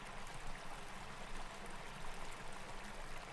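Stenner Creek near San Luis Obispo flows in a soft, continuous trickle along a dry-season hiking path, steady and fairly faint with no voices.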